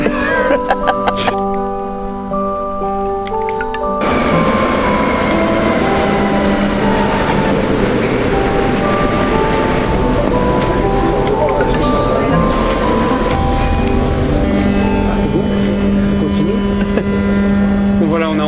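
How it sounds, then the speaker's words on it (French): Charleroi metro train in motion, a steady loud rumble of wheels and motor filling the whole stretch after a brief quieter start, with people talking over it. "Embarqué dans ce métro"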